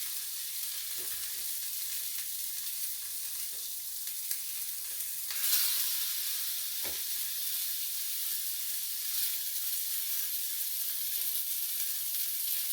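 Five small sausage patties fry in a pan with a steady, even bright sizzle that goes on throughout, broken by a few soft taps and one brief louder spatter.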